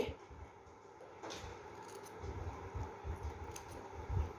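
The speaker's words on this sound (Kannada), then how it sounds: "ಇದನ್ನು ಇನ್ನೊಮ್ಮೆ ಹೀಗೆ ಮಡಚಿ ಸ್ವಲ್ಪ ಹೀಗೆ ಕಟ್ ಮಾಡಿಬಿಡಿ" Scissors cut through folded blouse fabric while making a mat, soft close snips and crunching blade strokes repeating irregularly, quiet with a light room hum.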